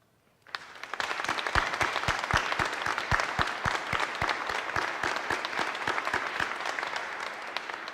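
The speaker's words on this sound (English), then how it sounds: "if you can stand up and give them a round of applause." Audience at an awards ceremony breaks into applause that swells quickly to a dense, sustained clatter of many hands, with one nearby clapper standing out in steady, evenly spaced claps.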